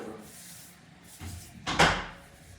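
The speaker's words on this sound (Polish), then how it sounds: "Zamknij drzwi, dobra?" A door swings shut in a home kitchen during baking, a quiet creak and shuffle followed by a firm close thud nearby, no voices.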